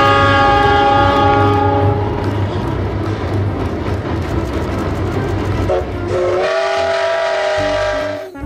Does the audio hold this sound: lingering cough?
no